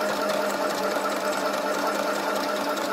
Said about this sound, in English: What I like about this little sewing machine, first of all, I've had this for years and years